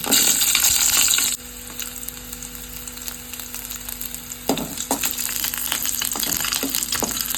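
Green chili and garlic drop into hot oil for a chickpea masala curry. A loud, hissing burst of frying opens, settles into a quieter bubbling sizzle, then flares up again with scattered pops toward the end.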